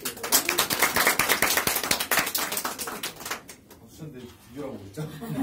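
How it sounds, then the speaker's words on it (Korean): An audience at a business team meeting gives a burst of quick, crisp applause with distinct hand claps for about three seconds. It fades out, and a voice then begins speaking into the quieter room. "박수로 우리 모두"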